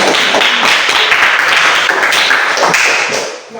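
A group of people, likely a class of students, clap their hands together in a quick, dense burst of many overlapping claps, loud and close, tapering off toward the end.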